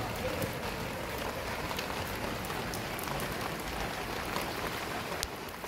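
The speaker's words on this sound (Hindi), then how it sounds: "बारिश जो है वो तेज़ हो गई है" Heavy rain pours steadily, a dense hiss of drops with occasional sharper patters.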